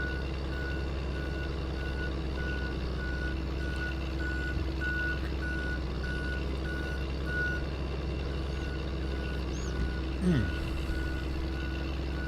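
Tow truck backing up in Farming Simulator 22, its reversing alarm beeping steadily at a regular rhythm over a constant low engine drone, with a faint brief passing sound near the end.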